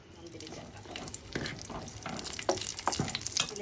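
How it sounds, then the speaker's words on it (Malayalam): Cashews and raisins fry in a pan for pineapple payasam, giving a steady close crackling sizzle with scattered sharper pops and stirring scrapes that grow slightly louder toward the end. "പായസത്തിലേക്ക് ആവശ്യമായ അണ്ടിപ്പരിപ്പ്, മുന്തിരി ഒന്ന് വറുത്തെടുക്കാം"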